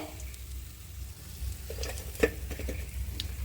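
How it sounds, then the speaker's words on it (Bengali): Katla fish pieces frying in oil in a pan on a stove, a low steady sizzle with occasional spatters, a sharp clink and light stirring scrapes, fairly quiet with no voices. "এক এক করে সব মাছগুলো ভেজে নেবো"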